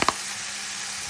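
Sliced leeks and carrots sizzle gently in a pan for shrimp fried rice, opening with two quick clinks or stirring taps and then settling into a soft, steady hiss.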